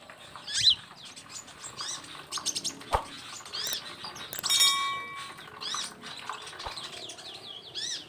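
Small birds called kolibri chirp in a mini aviary: a scattering of sharp, high tweets and short calls at varied intervals, close and fairly faint, with a few soft flutters and taps.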